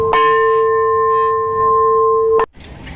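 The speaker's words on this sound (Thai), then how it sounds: "เสียงะระฆังที่ผมตีนั้น ยังคงก้องกังวานอยู่ในหัวของผม" A temple bell at a Burmese pagoda is struck once, close and loud, its pure ringing tones sustaining steadily for a couple of seconds before cutting off abruptly.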